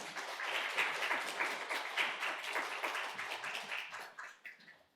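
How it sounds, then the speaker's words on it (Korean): Church congregation applauding to welcome a visiting pastor at a Korean church in San Francisco, a dense, steady wash of many hands clapping close by, fading out toward the end. "우리 나오실 때 큰 박수로 환영하겠습니다"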